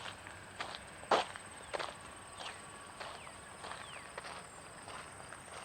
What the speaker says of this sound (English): I do like including these natural sounds like my feet on the gravel.